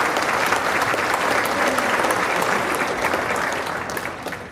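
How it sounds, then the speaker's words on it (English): An audience at a Chamber of Commerce annual banquet claps in a dense, continuous round of applause that holds steady and then starts to fade near the end. "I think I deserve a round of applause."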